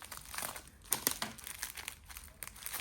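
Thin tissue-like paper crinkles and rustles close up while a stationery parcel is unboxed, with several sharper crackles near the middle amid continuous soft handling noise.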